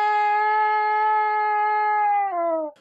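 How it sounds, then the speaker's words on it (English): A trumpet with faulty valves gives a steady, buzzy sustained tone that holds for about two seconds, then sags and bends downward before cutting off, heard alone and close. "If you try to play your trumpet and it makes a funny sound like this"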